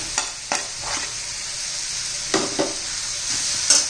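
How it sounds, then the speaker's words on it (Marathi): Okra and roasted besan flour get stirred in a pan with a soft continuous sizzle, punctuated by a few sharp scrapes and taps of the spoon against the pan, close and without talk. "सगळं व्यवस्थित मिक्स करूया"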